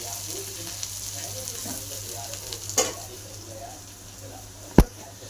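Onion frying in a pan while being browned for a black-masala chicken curry, a steady close sizzle with occasional stirring scrapes and one sharp clack of utensil on pan near the end.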